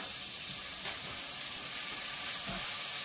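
Flank steak sizzling on a hot griddle, a steady close-up hiss and crackle of frying meat, with soft scraping bumps, no voices.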